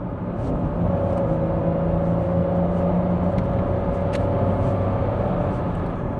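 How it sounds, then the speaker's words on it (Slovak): A Jaguar X-Type petrol car drones steadily while driving, a smooth engine hum with a constant low tone and faint road noise, heard from inside the cabin with no talking. "No a ten zvuk toho auta"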